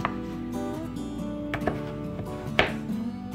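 Several sharp knife chops on a cutting board during meal prep, spaced unevenly with short pauses between strikes, close up and fairly loud over a low background hum.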